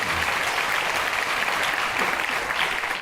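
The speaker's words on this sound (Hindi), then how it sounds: "नहीं, आप सब ताली इसलिए बजा रहे हैं," An audience applauds steadily and fairly loudly throughout a talk on culture and mathematics, a dense, continuous wash of clapping with no voices over it, tapering slightly at the very end.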